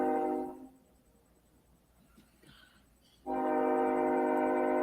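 A loud, sustained train horn blows in two long blasts separated by a quieter gap of distant rumble.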